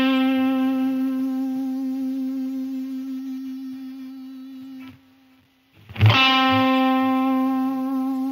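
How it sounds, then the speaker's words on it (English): Electric guitar through a Line 6 Helix vintage digital delay, with faint digital noise: a loud sustained note rings and fades, drops briefly to near silence, then a fresh strong attack rings out again with trailing repeats. "we do have that kind of digital noise"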